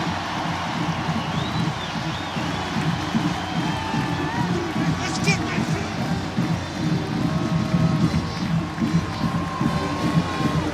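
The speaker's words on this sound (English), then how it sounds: "His homecoming crowd is ready." A homecoming crowd at a Penn State football game roars steadily as the Nittany Lions take the field against Illinois, a dense, continuous stadium din with a brief sharp whistle-like burst partway through.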